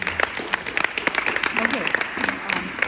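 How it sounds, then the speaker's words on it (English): A small audience at a master class applauds after a performance, a steady patter of clapping running under a speaking voice. "Okay, now we can clap"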